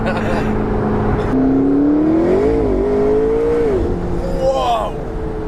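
A baby blue McLaren 650S Spider sports car accelerates hard, its engine note climbing and rising in pitch through a gear change, loud and close from inside the cabin, with people talking and exclaiming over it.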